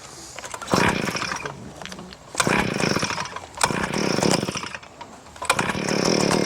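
A gas-powered one-man post hole auger engine runs close by, its buzzy two-stroke note surging up and dropping back in four repeated revs.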